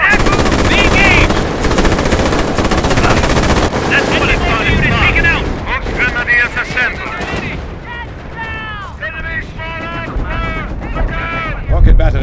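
Rocket batteries and heavy gunfire in the Company of Heroes battle game, a dense, loud barrage of rapid shots and blasts rolling on throughout, with voices calling out over the din.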